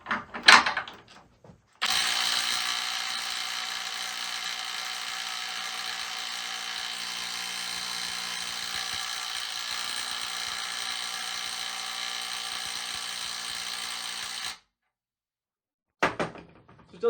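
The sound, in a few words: Dewalt DCF921 20V Atomic impact wrench on 9Ah battery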